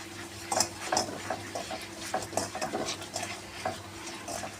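Spices scraped and stirred through hot tempering oil in a pan for a Marathi mixed-dal amti with hing and Kashmiri red chilli, a spoon clinking and scraping in quick irregular strokes over a faint sizzle.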